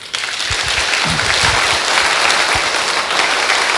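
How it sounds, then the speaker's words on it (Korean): A dense church audience claps steadily and loudly together in a sustained wash of applause, with a few heavier low thumps near the start. "일단 우리 예수님 위해서 박수 좀 한번 쳐줘요."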